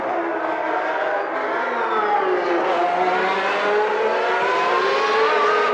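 Formula One cars from the 1991 season at Monza, including McLarens, Ferraris and a Benetton Ford, scream past with high, rising and falling engine whine that holds steady and loud throughout, with no talk.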